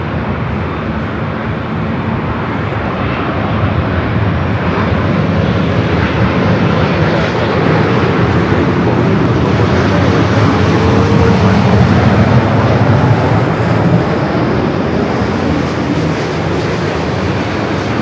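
Turkish Airlines Boeing 787 Dreamliner at LAX produces a sustained, loud jet roar that builds slightly and holds, a broad rumbling wash with no voices.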